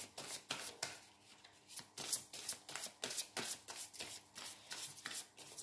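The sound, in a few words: shuffling tarot cards for a reading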